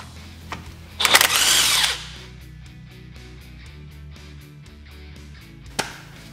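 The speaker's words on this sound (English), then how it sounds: "I'm gonna use my impact for that because I can't do it all by hand" An impact wrench gives one loud, rattling burst of about a second while loosening a 17 mm hub bolt on a 1988 Isuzu Trooper's brake rotor, followed by quieter shop noise and a single sharp knock near the end.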